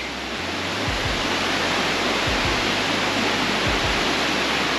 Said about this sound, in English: the water might be too loud and you're not going to be able to hear me.